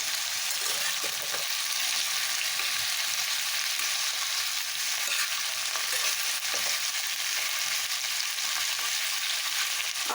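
Steady sizzling of potatoes frying in oil over a raised gas flame, a constant moderate hiss with a few soft stirring clicks and no talking.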